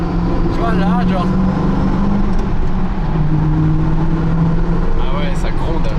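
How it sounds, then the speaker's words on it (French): Ford GT V8 accelerating, its steady engine roar rising through the revs with a supercharger whine riding on top, heard from inside the car and continuous throughout, with people talking over it. "Et là, quand t'accélères, on entend le compresseur."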